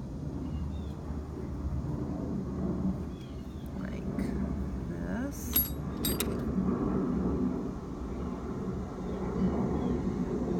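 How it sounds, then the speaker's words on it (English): A steady low airplane drone passes overhead, filling the background at moderate loudness while faint outdoor noises sit on top. "course there's an airplane going by."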